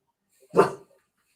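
Indoor pet dog reacting to a knock on the door gives a single short bark, fairly close and clear, isolated in otherwise quiet surroundings.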